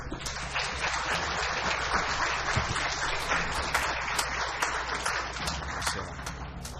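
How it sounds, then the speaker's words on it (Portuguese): A crowd applauds at a solemn municipal council session marking a town's 150th anniversary, with dense, sustained clapping from many hands filling the hall at a steady level. "Mais aplausos, por favor"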